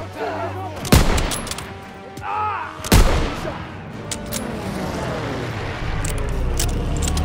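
Gunfire and heavy blasts crack out in a Call of Duty: WWII battle, with two loud sharp reports followed by a rumbling half-track engine growing steadily beneath the scattered fire.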